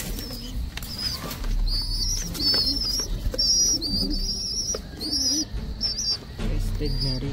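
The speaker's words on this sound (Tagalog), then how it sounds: "Crested na racing pigeon." A crested racing pigeon gives soft, low coos close by, mixed with wing flutters and high, bright chirps from other birds in a loft.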